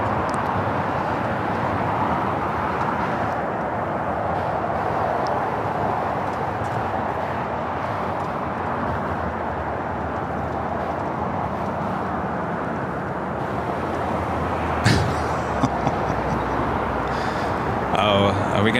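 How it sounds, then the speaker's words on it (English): An Alaska Airlines Boeing 737 MAX 8 jet airliner at LAX gives a steady, loud broadband roar that holds throughout, with a brief sharper burst near the end. "Flight 6 heading to Reagan National. It's a 737 MAX 8, pretty new aircraft"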